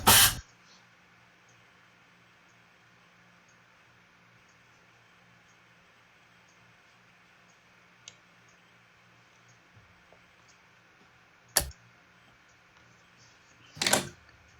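An ÖBB Siemens ES64U2 Taurus 1116 Railjet locomotive starting up in Train Simulator 2016: a quiet, steady low electrical hum runs throughout, broken by three sharp pneumatic hiss bursts at the start, near the end, and just before it closes.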